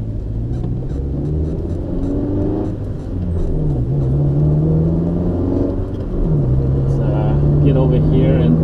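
A Honda-powered car running a chipped P28 ECU accelerates hard through its gears from inside the cabin, with engine drone climbing in pitch, dropping at each shift around three and six seconds, then rising again, while a voice talks over it.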